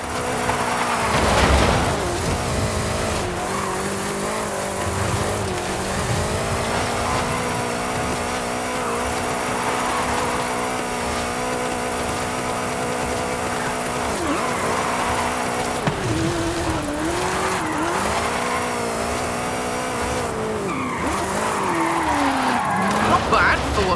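A 2015 Ford Mustang GT in Forza drives downhill with a steady engine roar and repeated tire skids and squeals through corners, loud and continuous throughout.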